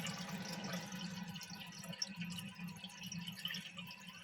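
Water steadily fills a concealed cistern tank behind a wall during a cistern repair: a soft, continuous rushing hiss with a low hum, quiet and close, with no voices.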